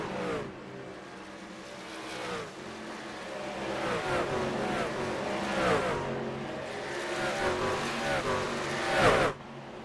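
Race trucks roar around the track in a truck series race, engines revving and pitching up and down as a pack passes close, with a loud surge near the end and commentary underneath.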